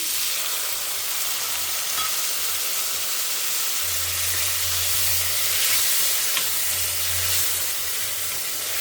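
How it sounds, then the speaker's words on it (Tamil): Tomatoes and stalks sautéing in a pan for a Karnataka-style rasam, giving a steady, even sizzle and hiss with a low hum underneath and no talking. "தக்காளி நல்லா வதங்கணும்."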